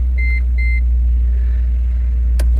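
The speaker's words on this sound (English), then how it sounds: "Oh wow, sorry, I meant not to start the engine." Inside a Mercedes-AMG G63, the engine idles with a loud, steady low rumble after starting. Two short electronic chimes sound early, and there is a faint click near the end.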